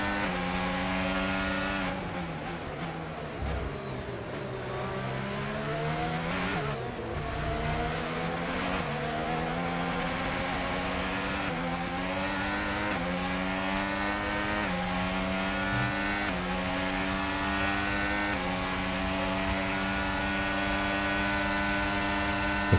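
Formula 1 race cars in the F1 25 video game at the China round scream past, with high engine whines that rise and fall through gear changes and braking as cars chase each other toward a hairpin.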